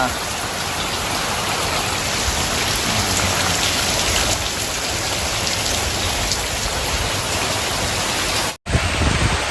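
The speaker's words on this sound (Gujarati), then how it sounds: "ઝરમર ઝરમર વરસાદ પડતા" Steady drizzling rain falls continuously over a groundnut field, a dense even patter close by, uninterrupted until a brief cut near the end.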